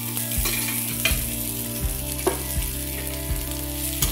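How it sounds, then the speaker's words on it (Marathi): Green chillies and garlic frying in oil in a pan, a steady close sizzle with occasional stirring scrapes and clinks at an irregular pace, no voices. "आता यामध्ये मी थोडंसं असं तेल टाकून घेणार आहे, जेणेकरून आपल्या हिरवी मिरची आणि लसूण चांगल्या प्रकारे भाजून जातील।"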